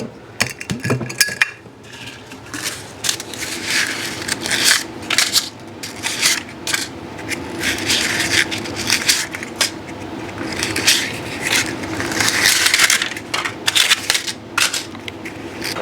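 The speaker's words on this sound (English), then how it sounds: "we're going to line the cups with some papers, muffin papers" Paper muffin cups are pressed into a muffin pan for gluten-free chocolate chip muffins, a near, continuous papery crinkling and rustling with occasional light metallic taps.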